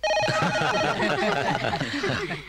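A telephone rings in a dramatized indoor scene, its repeated bell tones sounding clearly for a couple of seconds while a voice murmurs and chuckles underneath.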